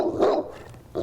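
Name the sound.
dog barking at a weight pull event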